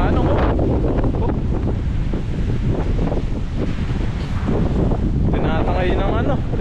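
Strong typhoon wind roars and buffets the microphone throughout, loud and constant, with brief voices faintly mixed in near the end.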